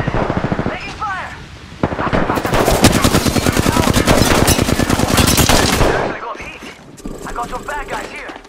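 Dense, loud automatic gunfire from the video game Apex Legends, rapid shots rattling for several seconds alongside a few single cracks, with brief quieter gaps and faint voice callouts mixed in.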